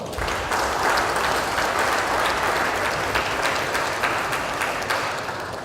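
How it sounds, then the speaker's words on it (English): Audience at a government swearing-in ceremony for new commissioners breaks into loud, steady applause, a dense wash of clapping sustained evenly from start to finish. "A round of applause for her."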